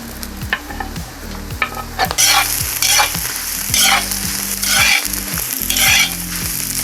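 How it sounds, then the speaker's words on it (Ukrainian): Loud, continuous sizzling of chanterelle mushrooms and onion frying in butter in a cauldron, with a low rhythmic background beat and bursts of hiss as the food is stirred. "поки грибочки з цибулькою смажаться"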